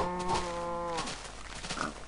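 A cow in the Minecraft video game moos once, a loud, close, drawn-out low call with no talking over it.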